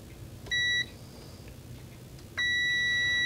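Two short, clean electronic beeps from a 12-volt check on an Amiga 1200, the second held longer, sound over a quiet background hiss.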